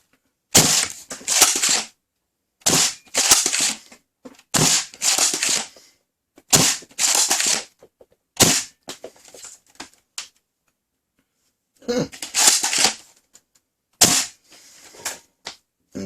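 A Worker Swift toy blaster fired in bursts, each a rapid rattling string of sharp snapping shots lasting about a second, about eight bursts separated by short silences, loud and close.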